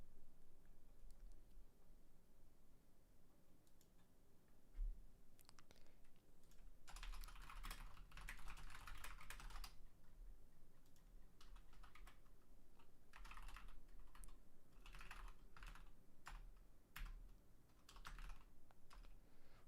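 Keys clatter on a computer keyboard in uneven bursts of fast typing, broken by short pauses, close and fairly quiet.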